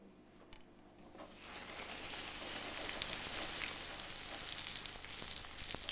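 Herring sizzles sharply in a hot frying pan, the crackling frying rising quickly after a quiet start and staying steady and close.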